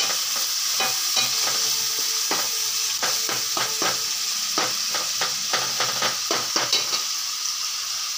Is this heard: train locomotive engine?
no